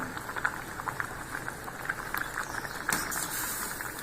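Mustard seeds and curry leaves sizzle and crackle in hot oil while tempering for bitter gourd sambar. A steady frying hiss runs throughout, with scattered sharp pops from the seeds.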